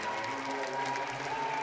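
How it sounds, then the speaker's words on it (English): Spartan wrestling fans at a Big Ten college dual meet applaud in a steady, dense wash of clapping with some crowd noise, heard fairly faint and distant across the arena. "Big round of applause from the Spartan fans here as Caffey will pull it out"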